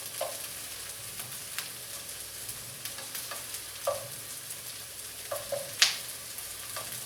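Lobster pieces fry in a hot pan with a soft, continuous sizzle, punctuated by quick crackles and pops and the occasional scrape of stirring, heard close up with no voices.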